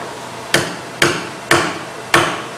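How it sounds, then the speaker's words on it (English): Four sharp hammer blows drive wooden legs into a chair seat at a steady, unhurried pace, each a crisp knock of wood being struck, close and clear with brief quiet between, in a furniture workshop. "Now you're going to hear it when he's putting these legs in."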